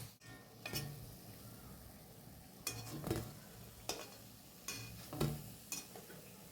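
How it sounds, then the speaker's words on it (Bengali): Drumstick-flower pakoras sizzle in hot oil, a soft steady hiss broken by a handful of sharp clinks and scrapes from a utensil against the pan at uneven intervals, with no talking. "আর বাকি বড়াগুলো এইভাবেই ভেজে নেবো আমি"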